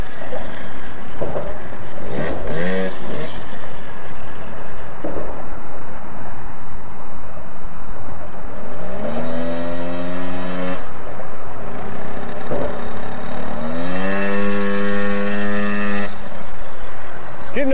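A motorcycle engine revs during a riding lesson under the Earhart Expressway, with two distinct rising revs climbing in pitch, loud and close, while people talk nearby.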